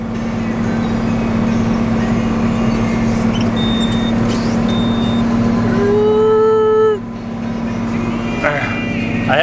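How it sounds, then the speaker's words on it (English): A tractor's engine runs steadily in seventh gear while cutting hay, a constant loud drone with someone talking over it, and some higher whining tones come and go near the end. "I'm in 7th gear. I'm not wound out on the throttle, but I have no other gear to go in."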